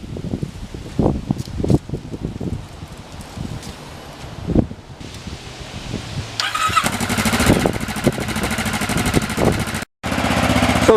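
A Kawasaki Ninja motorcycle engine fires up partway through and settles into a loud, steady running sound after earlier quieter rustling and handling noises, with a brief dropout near the end.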